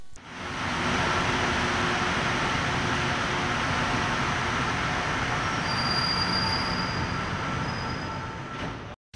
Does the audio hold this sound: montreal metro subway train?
yes